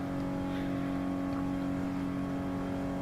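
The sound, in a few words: Renault Clio engine in video game Gran Turismo Sport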